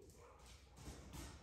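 Several dogs barking continuously at a distance, faint and steady throughout with no talk over them.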